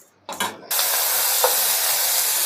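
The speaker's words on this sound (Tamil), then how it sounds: "வெங்காயம் தனியாக வதங்கட்டும்." Onions sautéing in hot oil in a pan while dried salted fish fry is cooked, a brief clatter as they go in, then a steady loud broadband sizzle that holds on without a break.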